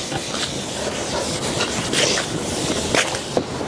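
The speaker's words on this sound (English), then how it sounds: "Take a little extra care with the first sanding" Steady rasping strokes of sandpaper rubbing across stripped wooden furniture, continuous and close, with slight rhythmic variation and no talking.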